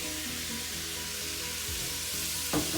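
Bacon frying in a pan on low heat gives a steady, dense sizzle with fine crackle, close and continuous, with a brief scrape or stir near the end.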